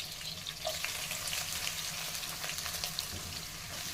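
Onions sizzling and frying in a pan for chicken curry, a steady close crackle with light popping that carries on evenly throughout, with no voices.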